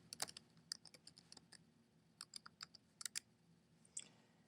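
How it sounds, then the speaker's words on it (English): Keys tapped on a computer keyboard while entering figures into a budget spreadsheet, faint and close, in short irregular bursts of clicks separated by pauses. "anytime I type something in"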